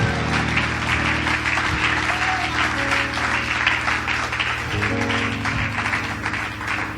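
A church congregation applauds in steady, dense clapping that runs throughout, moderately loud, with a low hum and brief tones underneath.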